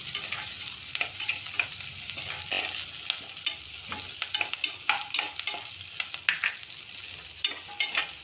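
Onions crackle and sizzle in hot oil as tempering for a kabuli chickpea gravy, with a dense run of quick spatula scrapes and taps growing busier toward the end, near and alone.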